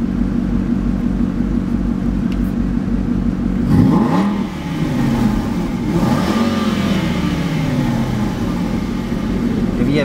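A Maserati with a six-speed manual gearbox revs hard, its exhaust note sweeping up and down twice in loud, close bursts over a steady idle rumble.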